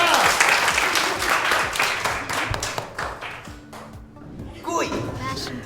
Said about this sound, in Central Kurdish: دێک چەپڵەی بەهێزم لۆ لێدا